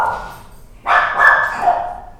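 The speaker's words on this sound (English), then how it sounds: "my dogs, I apologize for that" Dogs bark in a loud, close burst after a quiet start, with several overlapping yips and barks continuing to the end.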